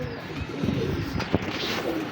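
A pet pigeon coos softly at close range, low murmuring calls under faint background noise and a bit of distant talk.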